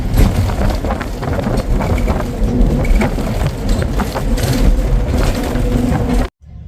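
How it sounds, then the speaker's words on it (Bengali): Strong wind buffets the microphone in loud, rough gusts for several seconds, then cuts out abruptly. "হাওয়া লাগছে খুব ঠান্ডা হাওয়া"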